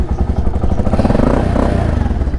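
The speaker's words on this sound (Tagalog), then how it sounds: "pinainit ko na tong motor natin. Ready to go na to." A motorcycle engine idles while warming up, giving a loud, steady, close-up rhythmic putter with faint mechanical clatter.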